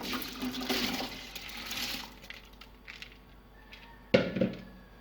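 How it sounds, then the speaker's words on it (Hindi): Rice poured into lukewarm salted water in a pot while making Chinese chicken fried rice; a soft watery rustle runs through, then a sharp clatter and splash near the end, close up with no talking. "जब पानी नीम गर्म हो जाए तो इसमें चावल ऐड कर दें।"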